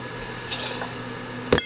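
Agave syrup is poured into a cocktail, a brief soft liquid trickle followed by a short splash at the end, close and quiet.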